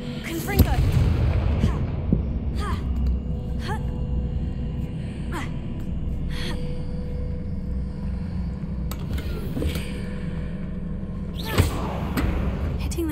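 Confringo fire spell blasts in the wizarding game Hogwarts Legacy go off as a series of sharp booming impacts at irregular intervals over a low rumbling background, with voices heard between the hits.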